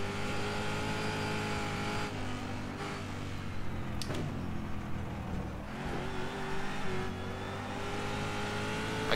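Big V8 race car engine from the Apex mod in rFactor 2, heard onboard as a steady, loud droning tone that rises and falls with throttle, with a brief sharp transient near the middle.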